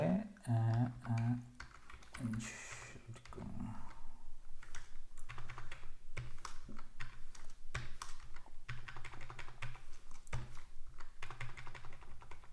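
Steady, rapid typing on a computer keyboard, close and continuous for most of the stretch, with a brief burst of other sound at the start.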